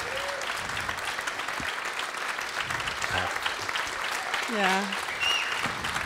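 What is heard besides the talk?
audience clapping after a speech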